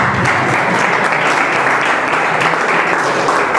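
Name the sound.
audience applauding after Hindi poetry performance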